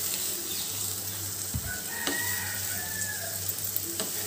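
Salted sliced onions fry in oil for chicken biryani, a soft, even sizzle close by, with a few light clinks and stirring knocks over it.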